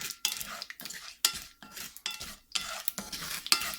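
Spices splattering and sizzling in hot oil in a pan while being stirred for a Tamil multi-vegetable koottu stew: crackling bursts broken by scrapes and clinks of a spoon, close and lively, with no speech.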